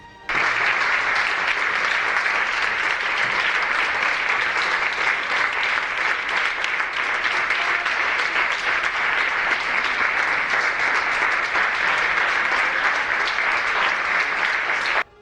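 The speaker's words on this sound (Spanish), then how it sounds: "Aplausos cerrados y unánimes de la Ejecutiva Federal a su líder, Pedro Sánchez" Sustained, dense applause from the Socialist Federal Executive for its leader Pedro Sánchez fills the room, steady and loud from start to finish with no voices over it.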